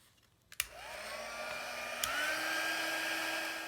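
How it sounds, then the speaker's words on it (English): A heat gun clicks on and blows steadily to set clear embossing powder, a constant whooshing whine that rises slightly in pitch after a second click. "I'm going to heat set this with my heat gun."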